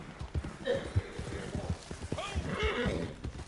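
A horse in Red Dead Redemption 2 trots with rhythmic clip-clop hoofbeats and lets out a couple of whinnies, moderately quiet, with some talking in the background.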